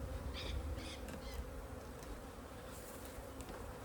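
Bees buzz steadily inside a top bar hive opened for inspection, a dense, continuous hum close by with a few louder individual bees passing near, and no voices.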